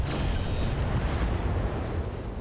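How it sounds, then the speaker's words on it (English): A deep, rumbling explosion of a vehicle with ammo explosions and a sustained roar of debris and fire, loud and close, from a RogueTech video game battle. "Structure exposure and ammo explosions there, and the vehicle does blow up."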